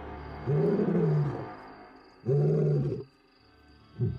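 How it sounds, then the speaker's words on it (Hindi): A male lion from the Mapogo coalition roars in deep, powerful bursts, three loud grunting roars separated by pauses, close and with no voices. "उसकी दहाड़ बिल्कुल ही अलग थी।"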